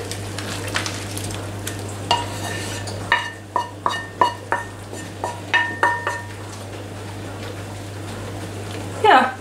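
Fried contents of a pan, including sausages, go into a pot of mixed bean stew, followed by a sizzle, a scraping stir and a run of sharp metallic clinks of a spoon against the cookware, close and fairly loud.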